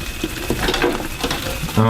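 Eggs sizzle and crackle in a hot pan while being stirred and scraped, with a brief voice near the end.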